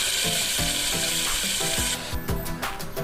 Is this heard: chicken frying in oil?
yes